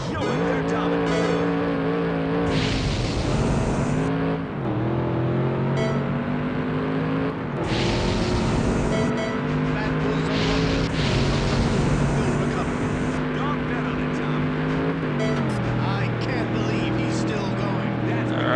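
Chevy and Ford race cars roar around a track with high revving engines, gear changes and the whine of passing cars, loud and continuous, while someone talks over the noise.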